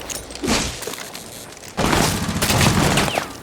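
Bursts of gunfire in Rainbow Six Siege with a barricade being shot and broken, loud and close, with a short lull before a heavier burst of shots.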